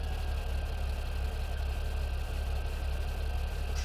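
Tractor engine idling in Farming Simulator 2017, a steady low mechanical drone with an even, unbroken rumble throughout, fairly close and without talk.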